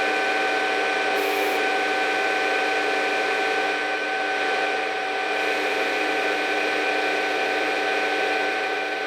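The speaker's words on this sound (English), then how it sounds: "I'm using the power feed but stopping a little short and finishing the cut with the hand wheels." Metal lathe or mill running under power feed with hand wheels finishing the cut while making a hammer, a steady mechanical whir with ratcheting, gear-like texture held at a constant level throughout, no voices.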